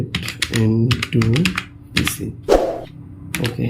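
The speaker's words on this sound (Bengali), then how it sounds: "এন্টার প্রেস করলাম।" A computer keyboard is used to type a web search and then Enter is pressed, producing a quick burst of close, crisp key clicks interleaved with someone talking.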